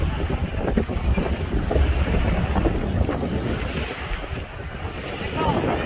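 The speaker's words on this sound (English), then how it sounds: "It's super windy," Strong wind and choppy waves along the Lake Huron shore, a constant roaring rush with heavy microphone buffeting and breaking surf, loud and close throughout, no voices.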